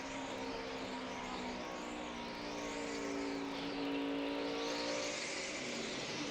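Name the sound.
race car wheel spin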